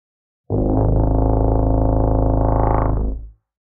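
A loud, gritty synth note on a dirt distortion setting sounds alone, holding steady for about three seconds with a buzzing, growly texture before fading out.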